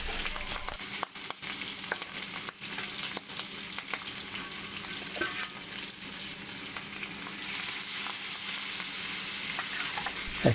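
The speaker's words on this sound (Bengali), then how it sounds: "মাছ আগে থেকে ধুয়ে রেখেছিলাম, সেই মাছটা আমি ফ্রাই করে নিচ্ছি" Rohu fish pieces coated in turmeric and salt fry in oil in a wok, giving a continuous moderate sizzle with small crackles and faint scrapes throughout, no one speaking.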